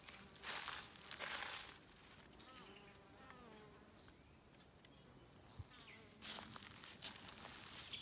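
A swarm of honeybees hums in a steady outdoor drone, swelling louder in bursts as bees fly close past, with faint footsteps and rustling in between.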